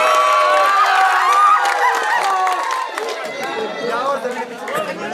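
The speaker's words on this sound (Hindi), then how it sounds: "जोरदार तालियों से स्वागत करो वही का।" A crowd at an evening gathering in Yamuna Nagar cheers and claps in welcome, a loud dense mix of applause, shouts and chatter that tapers slightly toward the end.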